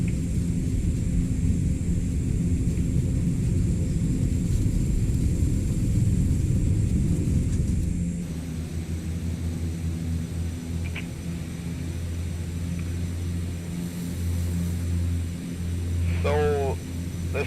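Canadair CL-415 water bomber in Microsoft Flight Simulator 2024, flying over Brazil: a steady, loud low engine drone that softens and deepens midway, with a brief chirping sweep near the end.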